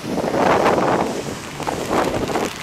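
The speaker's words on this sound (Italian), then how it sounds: "Che vento!" Strong wind gusts buffet the microphone outdoors in a city, a steady roaring rush that swells and eases without any voices.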